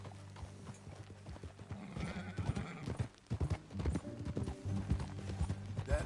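Horse hooves clip-clopping in the Western video game Red Dead Redemption 2, a rhythmic, close series of hoof strikes over a soft background music bed.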